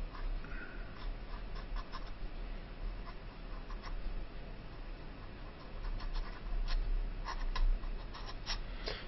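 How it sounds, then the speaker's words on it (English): Quick cursive handwriting with a pen on paper makes a continuous close scratching, with faint rapid ticks and strokes that grow a little louder toward the end, and no voices. "It is possible to write this handwriting extremely quickly."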